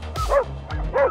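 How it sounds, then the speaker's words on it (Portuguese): Dogs barking on a street in Tiradentes, Minas Gerais, as a car edges slowly past them: two or three sharp, loud, close yips in quick succession. "Olha os cachorros aí me atrapalhando."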